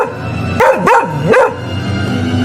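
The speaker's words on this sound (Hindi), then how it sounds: "अचानक रास्ते के किनारे बैठा एक कुत्ता उन्हें देखकर जोर जोर से भौंकने लगा।" A dog sitting by a roadside barks loudly three times in quick succession, close and clear, with each bark rising and falling in pitch.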